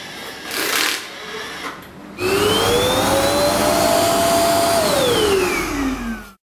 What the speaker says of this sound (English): the canister above will automatically begin to work, sucking the dust from D-Bot